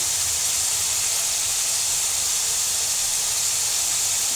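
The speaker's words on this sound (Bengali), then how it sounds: "আমি এটাকে তেলের মধ্যে একটু ভেজে নেব" Peas and carrots frying in hot oil give off a loud, steady sizzling hiss that holds evenly the whole time, close by and with no talk.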